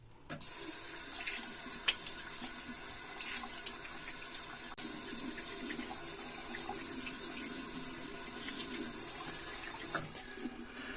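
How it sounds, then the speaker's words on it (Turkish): Steady running tap water splashes into a sink during face washing after a shave with lime shaving soap, a continuous close hiss with small splashes and no talking. "şimdi yıkayacağım yüzümü"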